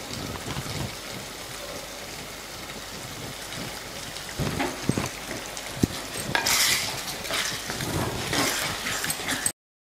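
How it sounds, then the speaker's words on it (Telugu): Vangi bath, an Andhra eggplant rice dish, being stirred in a pan, giving a steady soft scraping and sizzling texture with a few sharper utensil clinks partway through, close and moderately quiet. "దీన్ని బాగా కలుపుకుందాం ఇప్పుడు ఇంకాస్త ఉప్పు వేసుకొని కాసేపు మగ్గనిద్దాం"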